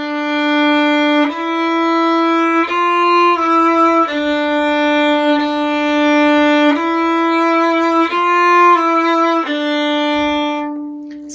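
Solo violin plays the opening two bars of a Mahler theme at a grade 2 level, a clear sequence of sustained bowed notes moving step by step, close and alone with no talk.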